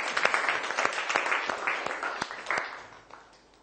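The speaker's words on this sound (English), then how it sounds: "Give her a big clap." A classroom of pupils claps for a classmate in a mathematics lesson, a brief burst of uneven individual claps close by that thins out and fades toward the end.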